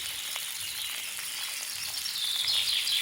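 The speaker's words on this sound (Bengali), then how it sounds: "এখন আলু কটা ফ্রাই করে নিচ্ছি" Potatoes frying in hot oil in a wok give a steady, even sizzle throughout, close and moderately loud, with no voices.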